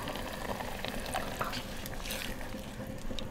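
Shallots and mushrooms simmer in a pan for a mushroom sauce after meat broth is poured in, giving a steady close bubbling and sizzling hiss that runs evenly throughout with no talking.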